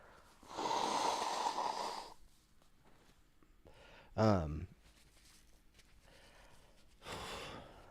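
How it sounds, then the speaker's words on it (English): A loud nose blow into a tissue, with breathy snorting bursts before and after it, in a quiet room. "I gotta blow my nose"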